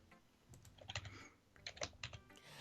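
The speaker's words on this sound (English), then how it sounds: "Oh, I can hear the typing." Clattering keystrokes on a computer keyboard come in quick irregular bursts with short pauses, close and moderately loud, with no talking.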